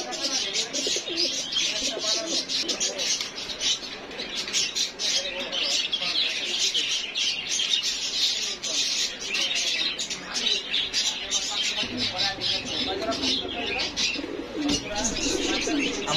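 A bird shop selling pigeons and other birds, where pigeons coo and many small birds chirp and tweet densely all around, close and continuous, while someone talks over them.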